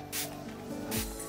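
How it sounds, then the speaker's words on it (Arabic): Makeup fixing spray from a handheld bottle gives two short, close hissing bursts about a second apart. "هجرب ان انا اخد الفاكسينج سبراي من براند عندي"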